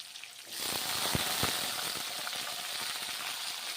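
Slices of pointed gourd (potol) drop into well-heated oil. A sudden burst of bright, hissing sizzle starts after a brief quiet moment, then keeps crackling evenly with scattered pops.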